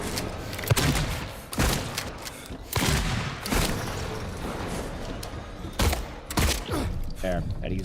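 Gunshots in the Silent Hill 2 Remake arrive as repeated loud bangs and thuds amid dense, noisy combat sound, with a voice partly talking over the action.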